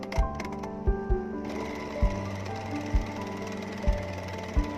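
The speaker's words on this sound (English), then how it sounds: "Okay, so we're gonna sew here. Stitch and then a zigzag stitch here." A home sewing machine runs a zigzag stitch on a thrifted button-down shirt being made into a sleeveless ruffle top. The motor hums steadily and close, with a few louder thumps at irregular points.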